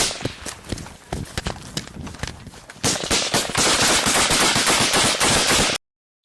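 Gunfire during a combat firefight with the Taliban, with sharp irregular shots giving way to a dense, sustained burst of automatic fire that cuts off abruptly.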